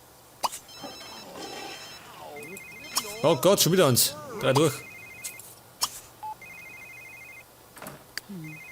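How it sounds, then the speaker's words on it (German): A telephone rings in The Sims 3, sounding as three short electronic ring bursts spaced through the clip, mixed with game sound effects while someone talks over it. "jetzt mal ans Telefon gehen."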